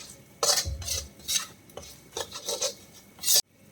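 Chili powder is stirred and roasted in a pan, with repeated raspy scraping strokes of a spoon against the metal. The strokes come in an uneven rhythm, loud and close, and end in one long scrape before stopping abruptly.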